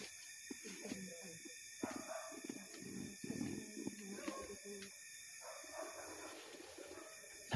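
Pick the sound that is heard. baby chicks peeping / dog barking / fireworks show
dog barking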